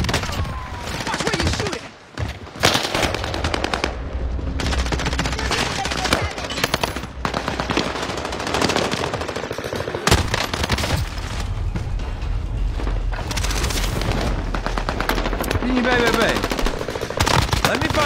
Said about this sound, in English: I'm taking shots.